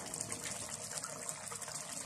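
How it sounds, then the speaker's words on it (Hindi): Water is poured into a blender holding chicken korma paste ingredients, a steady faint hissing gush that runs evenly throughout without talk. "अब हम इसमें थोड़ा पानी ऐड करेंगे"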